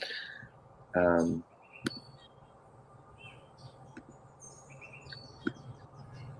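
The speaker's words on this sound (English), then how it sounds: "John, are those birds in behind you? Yeah, they're actually all around me." Scattered faint bird chirps outdoors, high and brief, over a steady background hum, with a short loud burst near the start.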